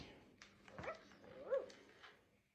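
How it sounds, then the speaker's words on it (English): A playful little puppy whimpers and yips softly, a few short, thin whines close by at low volume, with no talk. "He's a playful little puppy."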